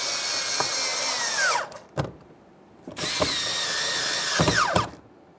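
A power tool whirs in two bursts, snugging 7mm mounting bolts on a 2015-2020 Ford F-150 rear power window regulator, each run ending in a falling pitch as the bolt seats, close and clear.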